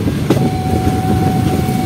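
Delhi Haridwar Express train pulling out of a station, a steady low rumble of moving rail carriages with a faint sustained tone, loud and continuous, no voices.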